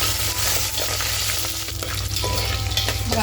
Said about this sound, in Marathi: मी बाजूला काढून ठेवलेली चरबी आहे ती तेलात टाकून छान असं फ्राय करून घेऊया